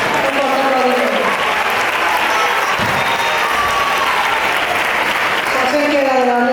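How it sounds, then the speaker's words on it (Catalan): Loud applause from families at a primary school graduation ceremony, continuous clapping from a crowd with some cheering and voices mixed in throughout. "Un fort aplaudiment."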